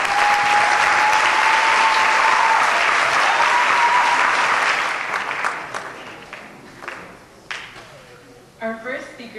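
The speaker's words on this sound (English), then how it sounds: "everyone give them a very big round of applause" A big round of loud crowd applause for the cast and crew at an Assyrian cultural opening ceremony in Skokie holds strong for several seconds, then thins to scattered claps as a voice begins speaking.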